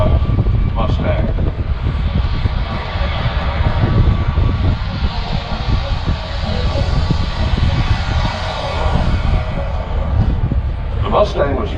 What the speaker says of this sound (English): The Mustang was fitted with a unique sounding Rolls-Royce engine